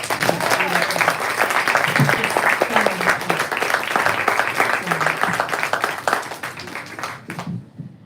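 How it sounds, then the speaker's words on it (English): A poetry reading audience claps for several seconds, individual hand claps distinct within a moderate crowd, with murmured voices beneath before the applause fades out. "Let's give one more round of applause."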